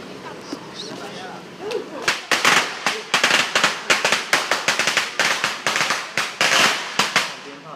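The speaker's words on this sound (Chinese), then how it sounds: "鞭炮就要出发了，要出发了" A long string of firecrackers goes off at a festive celebration, with sharp cracks arriving in rapid, uneven bursts. Each crack is loud and close, and voices can be heard faintly beneath them.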